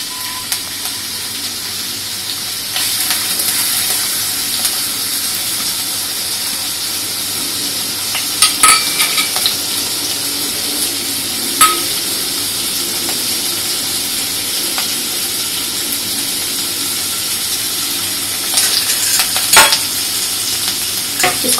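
Soaked lentils fry in hot oil with a loud, steady sizzle, broken by the scrape and clack of a spoon stirring them in the pan now and then.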